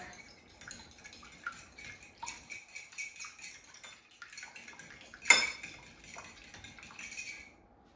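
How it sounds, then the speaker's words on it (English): A fork clinks and scrapes against a bowl while an egg is beaten for breading green tomatoes, giving irregular light taps with one louder clatter partway through, close and alone. "And I will whisk it with a fork."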